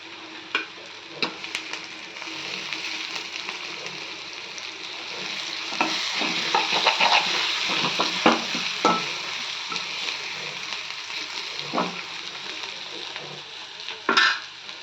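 Fenugreek seeds frying in a pan for an old-style pulusu, a steady sizzle punctuated by repeated scraping and tapping of a spoon against the pan, with no speech.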